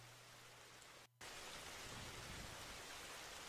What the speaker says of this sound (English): Oh, that is loud rain.